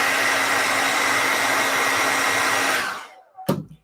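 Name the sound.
hair dryer blowing on clay sculpture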